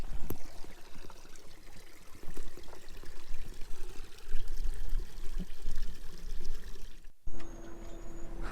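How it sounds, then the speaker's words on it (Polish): Water running down a mountain slope in Durmitor, Montenegro, pours and trickles steadily outdoors, a continuous splashing stream that pauses with a brief rustle near the end. "Woda tutaj spływa, Marek."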